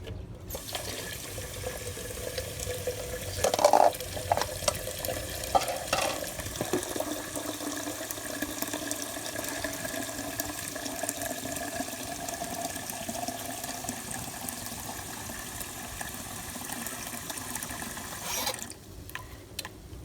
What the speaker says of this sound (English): I'm going to fill it up with some water to finish it off.